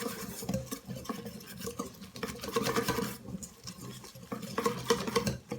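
Grated Parmesan cheese is stirred into a soft meatball mixture in a bowl. The wet, squelching mixing sounds come close and continuous, with uneven patter and occasional light clinks.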